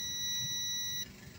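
A multimeter set to buzzer continuity mode, probed on a car amplifier board under repair, gives a single steady high-pitched beep for about a second, then cuts off, leaving faint background noise.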